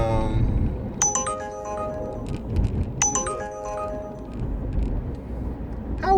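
Two short chiming Uber ride request tones ring out about two seconds apart over a steady low rumble of a car interior.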